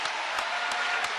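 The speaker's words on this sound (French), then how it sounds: "Let's give him a hand clap." An audience at a worship service claps, a dense, steady wash of many hands close by with faint cheering, brief and unbroken.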